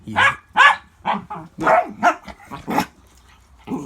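An old dog barks repeatedly at a blanket, a run of close, loud, sharp barks and yips at an uneven rhythm.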